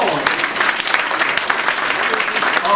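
Audience applause at a live stand-up comedy show, a dense steady wash of clapping from a full room that holds for the whole stretch, with a voice faintly audible beneath it.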